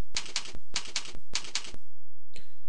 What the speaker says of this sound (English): I need to enter my credit card number